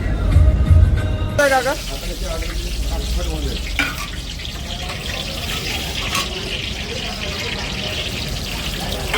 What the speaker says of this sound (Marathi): गरम गरम मस्त पालक भजी तयार होत आहे.